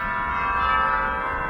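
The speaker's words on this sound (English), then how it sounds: "Cathedral chimes" Cathedral chimes on a theatre organ at the Al Ringling Theater ring out in a steady, sustained metallic tone, fairly loud and heard alone without voices.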